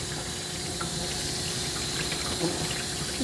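Tap water running steadily into a grooming tub while a small Coton de Tulear dog is being bathed, a continuous broad hiss and splash with no pauses.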